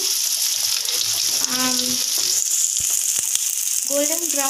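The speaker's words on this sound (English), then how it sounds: "I am going to add that to this oil and deep fry them until it turns to golden brown" Small onions deep frying in hot oil give a loud, continuous crackling sizzle close by, with a voice speaking briefly underneath.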